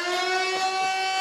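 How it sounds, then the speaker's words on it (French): Brief siren effect aired over radio, a steady buzzing electronic tone rich in even harmonics, held for just over a second at moderate loudness with no talk over it. "Alors on va faire un effet de sirène."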